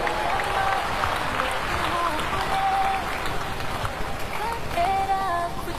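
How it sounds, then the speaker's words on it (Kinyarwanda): A crowd claps at a wedding celebration while a voice talks over it and a few tonal musical notes ring in the background, the clapping steady and moderately loud across the whole stretch. "umukunda wese amumpera amashyi menshi cyane."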